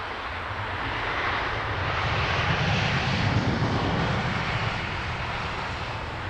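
An Airbus A380 airliner leaving Heathrow for Miami gives off a broad, steady engine roar that swells slightly and holds, heard from the airport with no talking.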